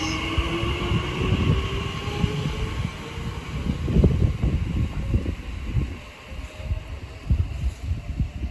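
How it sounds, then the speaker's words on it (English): A TfL Rail train pulls out of Ealing Broadway on the Great Western Main Line toward Heathrow, its low rumble and rising motor whine steady and fairly close throughout, with no talking. "Now departing is the 12:27 TfL rail service from London Paddington to Heathrow Terminal"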